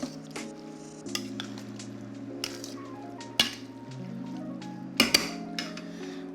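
Pan stirring of garlic shrimp pasta with sauce, with clinks of utensils against the pan and soft squishing, set against steady background music with a few sharper knocks.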